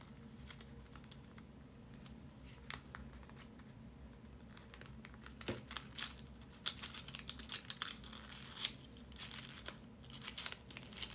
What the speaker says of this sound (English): you fold in the other side so you get your pentagon, and you tuck the loose ends